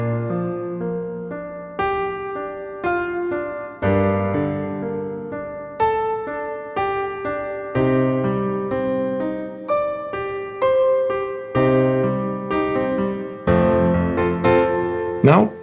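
Piano chords from a song are played without the sustain pedal in short, detached steps with clear gaps, each note dying away quickly instead of ringing on; no voices.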